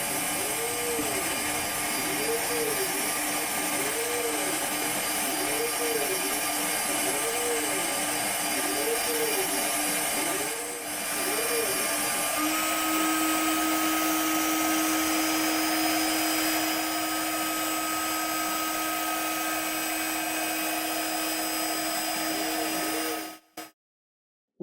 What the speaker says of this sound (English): Well, that's my CNC machine